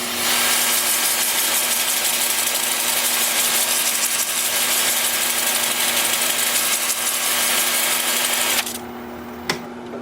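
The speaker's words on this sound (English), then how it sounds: "I'll sand in reverse and I'll sand forward." Wood being sanded on a lathe spinning in reverse at 350 RPM, a loud steady whirring hum with rough abrasive hiss, cutting off sharply near the end to quieter motor drone with a single knock.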